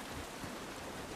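Steady rain in the video game The Last of Us Part 1, an even hiss of falling drops with no pauses, faint and distant.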